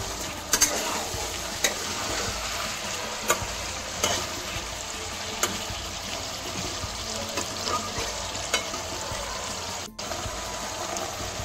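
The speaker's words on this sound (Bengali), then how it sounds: "মাটনটাকে 2 মিনিট ভালোভাবে নাড়াচাড়া করে নেব" Mutton fries in a pan for a thin mutton and potato curry, a continuous close sizzle with watery bubbling, punctuated every second or two by sharp spatula knocks and scrapes as it is stirred, no talking.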